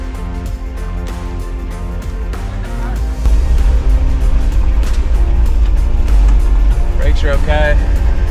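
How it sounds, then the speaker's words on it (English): Engine of a Toyota Land Cruiser FJ60 running on a test drive, a steady low drone that swells louder partway through, with a brief chirping squeal near the end. "Motor's running really good."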